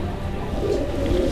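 Racing pigeon cooing nearby, low soft throaty coos repeating through a brief, fairly loud stretch with steady background noise and no talk.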